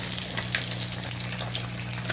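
Milkfish (bangus) frying in hot oil, a steady crackling sizzle with scattered pops, close and alone without talk.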